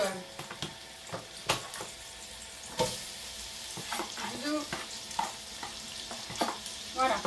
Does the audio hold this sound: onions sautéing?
yes